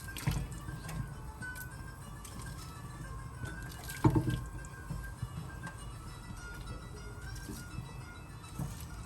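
Low, steady bubbling and dripping of Moroccan couscous broth with cabbage and chickpeas simmering in a pot, faint and continuous, with a slightly louder splash partway through.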